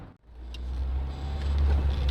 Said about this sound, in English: So we're going to do an acceleration test.